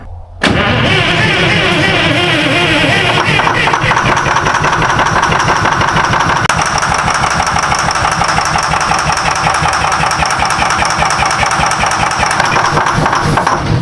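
The diesel engine of a rare Peterbilt 358 truck, abandoned for 40 years and freshly primed, cranks and catches, then runs loud and rough right up close, with knocking, uneven chugging throughout.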